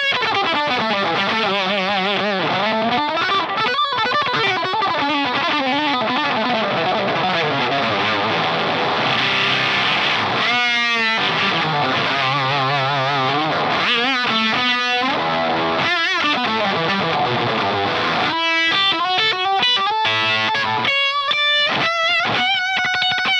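Electric guitar played through a Boss SD-1 overdrive pedal stacked with an octave fuzz: a thick, buzzy, heavily distorted tone over continuous riffs, sliding lines and choppy bends, loud and steady with no talking.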